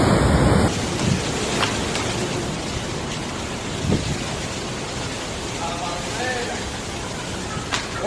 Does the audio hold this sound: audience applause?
no